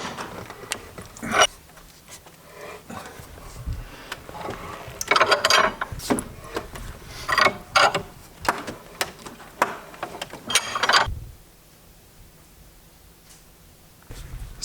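A cable crimp on battery wiring for a Victron energy system is tightened in a vise, giving loud close clicks, ratcheting clanks and metallic knocks in irregular bursts, then quieting near the end.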